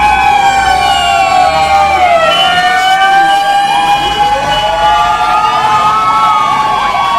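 Several loud fire truck sirens wail at once on a Quezon City street, their pitches sweeping up and down and overlapping, with traffic rumble beneath.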